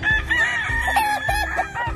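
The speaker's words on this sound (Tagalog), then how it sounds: "titingnan daw natin dito yung basilan na tandang" A Basilan native rooster crows loudly and close, with a long wavering call followed by a few shorter clucks and crowing bursts, no voices.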